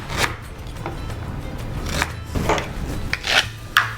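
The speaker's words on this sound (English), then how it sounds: "Let's grate the ginger." Fresh ginger is grated in a kitchen, giving a series of short raspy scraping strokes, close and moderately loud, with pauses between bursts.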